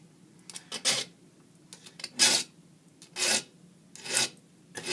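A metal file rasps in single forward strokes across chipped saw blade teeth, with firm pressure and no back-and-forth motion. About five loud, close, evenly spaced strokes come with short pauses between them and no talking.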